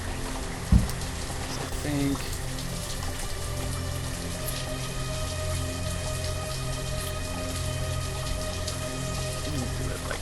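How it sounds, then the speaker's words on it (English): Steady rain patters and hisses across the scene in the Banished video game, a continuous soft wash under a man's speech. "It would start raining right as I do this."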